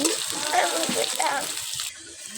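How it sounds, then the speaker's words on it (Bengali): Onion, garlic and green chili fry in a pan for chow mein noodles, a steady close hiss of sizzling oil continuing throughout before easing slightly near the end. "দিয়ে দিলাম পেঁয়াজ, রসুন আর কাঁচামরিচ দিয়ে দিলাম। কিছু সময় আমি ভেজে নেব।"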